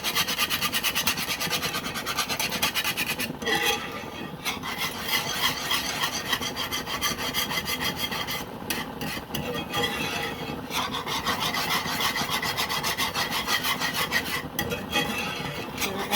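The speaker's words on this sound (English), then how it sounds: "I'm just going to keep on whisking." A whisk scrapes steadily around a pan of homemade gravy for smothered pork chops, making a continuous, fairly loud rasping scratch with a quick repeating rhythm and brief dips, with no talking.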